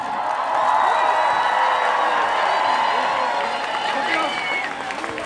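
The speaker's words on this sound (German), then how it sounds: "Großartig und einen riesen Applaus" Crowd cheering and applauding at an outdoor climate justice rally, a sustained broad wash of clapping and shouts rising and holding for several seconds, fairly loud with voices mixed in.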